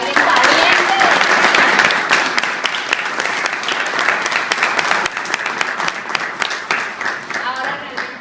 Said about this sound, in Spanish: Démosle un fuerte aplauso a Alex Valiente.